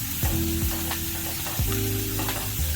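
Onion and capsicum sizzling and frying in a pan for a crispy bread pocket snack, with repeated scraping stirs across the pan surface, close, steady and moderately loud with no talk.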